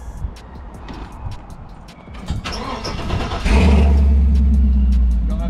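A classic GMC or Chevy pickup truck engine cranks with faint clicking, then fires up loud and settles into a heavy, steady rumble that fills the rest of the sound, close by.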